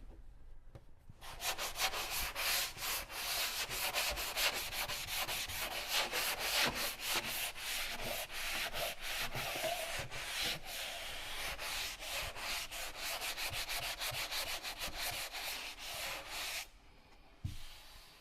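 Drywall repair over torn paper being sanded to take ridges off the edges: steady, close scratchy rubbing strokes in a fast continuous rhythm for about fifteen seconds, then stopping abruptly.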